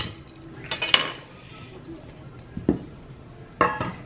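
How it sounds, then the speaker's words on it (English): Dry pancake ingredients whisked in a bowl for buttermilk pancakes, heard as a few scattered metallic clinks and taps of the whisk against the bowl with quiet stretches between them. "So I'll whisk these ingredients together"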